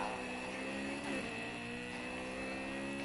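A car exhaust in a racing video game drones in a steady, sustained engine tone with a slight swell partway through, held at an even level throughout.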